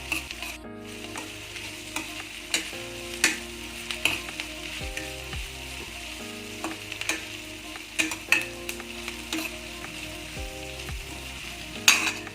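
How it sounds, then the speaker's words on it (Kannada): Capsicum sizzles in hot tempering oil with curry leaves, a steady frying hiss punctuated by repeated scrapes and clacks of a spatula stirring in the pan, with no talking. "ಕ್ಯಾಪ್ಸಿಕಮ್ನ ಒಗ್ಗರಣೆಗೆ ಹಾಕ್ಕೊಂಡು ಫ್ರೈ ಮಾಡ್ಕೋಬೇಕು."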